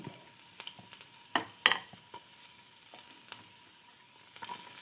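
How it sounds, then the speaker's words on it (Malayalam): Ginger pieces fry in hot coconut oil in a pan, a soft, quiet sizzle broken by a few sharper crackles and spatula scrapes. "അതിലേക്ക് നമുക്ക് വെളിച്ചെണ്ണ ഒഴിച്ചു കൊടുക്കാം ഇഞ്ചി ഇട്ട് കൊടുക്കാം"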